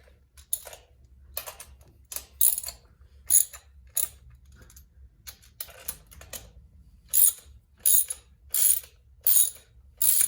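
A ratchet clicks in quick bursts while loosening the valve cover bolts on an old Volvo Amazon 122, the sharp ratcheting spurts separated by quiet pauses and recorded close up with no speech.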